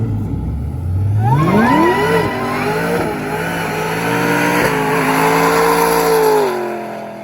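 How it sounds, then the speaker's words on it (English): A car doing burnouts at a drag and drive event, its engine revving and climbing loudly while tires squeal and skid. The screech holds close and continuous for several seconds before easing off; no voices are heard. "I was honestly not telling them to do burnouts."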